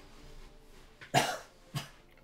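Two short, harsh coughs from a character in the video game Deadbolt, the first stronger, over a quiet background hum.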